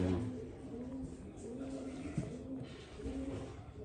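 Soft, low cooing of pigeons repeats in short phrases, close by, with a faint background hum.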